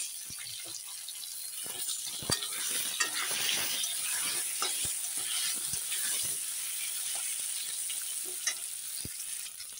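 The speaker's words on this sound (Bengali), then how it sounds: "আলুগুলো ভালো করে ভেজে নেব" Potatoes sizzle steadily in a pan while a utensil stirs them, giving a constant close hiss broken by sharp scraping clicks and taps against the pan.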